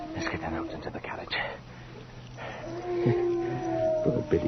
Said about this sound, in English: What the hell's got into the dogs?